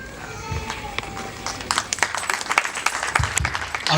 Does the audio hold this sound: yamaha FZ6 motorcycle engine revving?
no